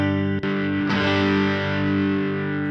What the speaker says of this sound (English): Let's hear what we got on the Tube Man side, the Tube Screamer side